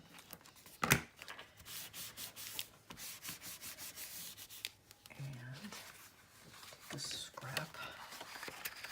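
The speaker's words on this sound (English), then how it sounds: "And I'll go ahead and burnish that down." Paper being burnished down by hand in a botanic garden journal, soft close rubbing and scraping strokes in short bursts, with a sharp tap near the start and quiet speech at times.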